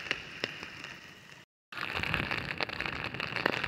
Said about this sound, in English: It's not raining too heavy now